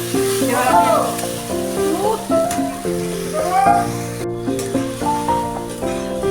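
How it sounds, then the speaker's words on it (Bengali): Spice paste sizzles in hot oil with nearly fried onions for a rohu fish kalia, a steady close frying hiss partly masked by melodic background music. "এবার আমি মশলাটা তেলের মধ্যে দিয়ে দেবো"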